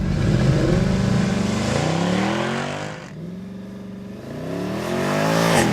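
A Mercedes-Benz C63 AMG Coupe Black Series accelerates hard from a standstill, its engine note climbing steeply and dropping at each automatic upshift, with two or three gear changes in quick succession.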